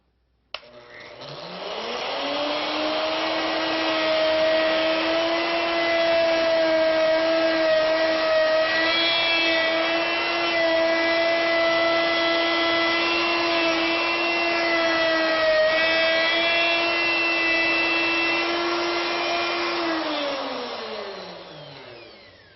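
A plunge cutting tool spins up, holds a steady whining tone through a long cut at about 0.2 plunge depth, then winds down at the end; loud, close and alone, with no talk.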